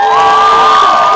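A dense crowd at a California public college rally cheers and applauds loudly, a continuous roar with high shouts and whoops, no talking over it.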